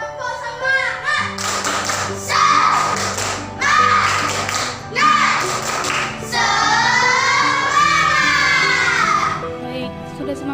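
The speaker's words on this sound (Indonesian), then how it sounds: "Tepuk semangat." Schoolchildren in a classroom perform a rhythmic spirit clap, with bursts of patterned clapping and tapping mixed with loud, sing-song group chanting of young voices.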